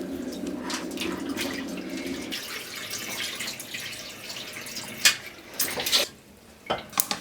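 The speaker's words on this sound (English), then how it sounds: "I'm going to just wash this with the cold water." Cold water runs and swishes over lentils in a bowl close by, followed by a few clinks of dishware and splashes as they are stirred and drained.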